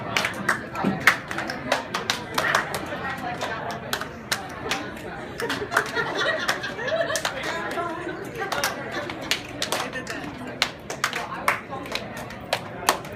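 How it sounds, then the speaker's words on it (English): A group of participants in an improv workshop at a creativity conference clap, snap and slap their thighs in a repeating counted pattern, a steady stream of sharp hits over crowd chatter and voices throughout. "clap with a 1, snap with a 2, and then 3, slap your thigh"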